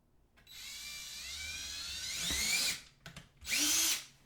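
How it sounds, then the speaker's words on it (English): Power drill boring a hole: a whining motor that rises in pitch as the bit bites, then stops, followed by a short second burst and a few small clicks and knocks. "Now I come over here and drill this hole."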